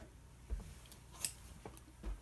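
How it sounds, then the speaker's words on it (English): Scissors snipping a small piece of twine for the spine of a handmade mini craft book, a few quiet, sharp cuts spaced out over a couple of seconds, close to the microphone with no talking. "I find that these scissors get close to the edge better."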